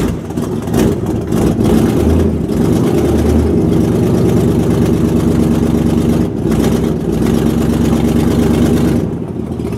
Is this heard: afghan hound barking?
no